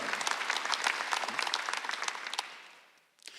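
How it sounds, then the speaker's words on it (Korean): A church congregation at a Sunday worship service gives a short burst of applause, with distinct individual claps in a fairly quiet room that taper off near the end before a few last scattered claps. "지금 박수 안 드세요."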